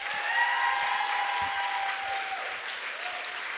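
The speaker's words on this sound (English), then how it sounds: "Clap it up one more time for my sister, please." An audience applauds after a poetry performance, steady, moderately loud clapping that continues throughout and tapers slightly toward the end.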